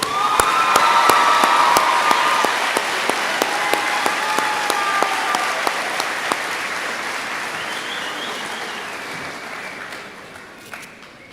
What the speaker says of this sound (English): How about another round of applause for our 8th grade?